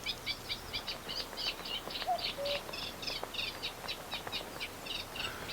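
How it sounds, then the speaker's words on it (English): A reed warbler calls at its nest where it is incubating eggs, giving a steady run of rapid, clear chirping notes close by over soft background ambience. "A reed warbler is incubating her eggs."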